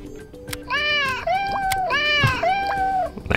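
Two short synthetic meows play one after the other from a Xiaomi Black Shark 5 phone, close and clear, with small clicks and handling noises around them.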